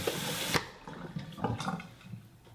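Photographic Blix chemical is poured, a short rushing splash of liquid that cuts off abruptly, followed by faint trickles and small handling clatter, close up with no talk.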